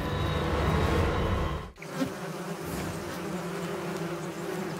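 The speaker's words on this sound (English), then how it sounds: "Squadrons of carnivorous rainforest wasps take to the air." Carnivorous rainforest wasps buzz in flight, a dense, steady droning hum with a brief dip partway through, close and continuous throughout.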